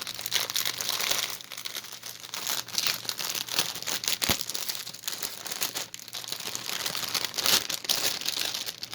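Plastic packaging around cross stitch embroidery thread crinkles and crackles near the microphone in irregular bursts, continuing throughout with no talking.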